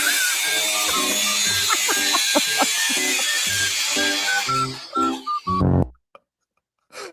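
A loud, buzzing power tool grinds continuously through a metal tape measure, its pitch wavering with scraping bursts before it stops abruptly and leaves near silence.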